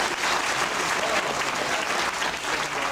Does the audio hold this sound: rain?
no